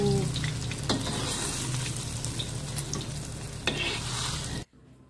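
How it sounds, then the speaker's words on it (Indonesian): Tofu fries for gado-gado, a loud, continuous crackling sizzle in hot oil with a few sharper pops and stirring clinks, before it suddenly cuts to near silence. "ini proses penggorengan tahu"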